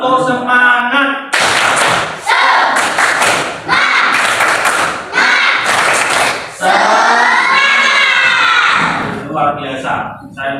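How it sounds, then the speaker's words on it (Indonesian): Schoolchildren in a classroom perform the rhythmic tepuk semangat spirit clap, bursts of loud patterned clapping with shouted chants between them, close and energetic, with a teacher's voice at the start and end. "Tepuk semangat."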